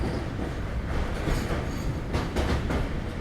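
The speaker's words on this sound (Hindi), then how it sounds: "अब हमारी ट्रेन पहुंच रही है गंगा रिवर पे" Amrit Bharat Express passenger train crossing a new bridge over the Ganga river, a loud continuous rumble with rhythmic wheel clatter and occasional metallic squeals, heard from inside the coach.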